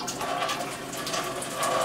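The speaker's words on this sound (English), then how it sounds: "We're just gonna go ahead and put some water." Water running into a pot from a tap, a steady splashing gush with bright bubbly texture, close and continuous for the short moment.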